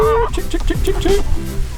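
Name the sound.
chickens clucking while being fed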